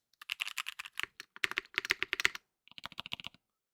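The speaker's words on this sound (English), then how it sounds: "I built a new keyboard last night." Fast, close-up typing on a newly built keyboard with an injection-molded polyurethane case, crisp clacking keystrokes in quick bursts with a short pause, and no talk.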